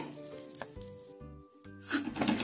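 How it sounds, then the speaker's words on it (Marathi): Spice masala sautéed in a pan for a pigeon-pea kachori filling sizzles briefly, starting softly under faint music tones and then rising into a louder, crackling fry near the end. "आता हे मसाले परतून घेऊ"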